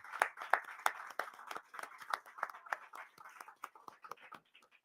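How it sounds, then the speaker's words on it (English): Scattered, uneven hand claps from a small audience at a New York State community commission meeting on reparations, a few sharp near claps standing out from a thinner spread that tapers off toward the end. "Let's give Utica a round of applause."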